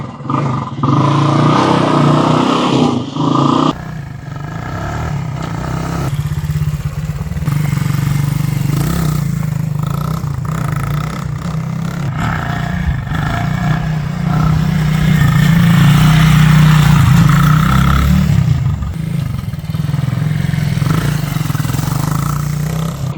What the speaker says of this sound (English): Let me give you a quick riding demo.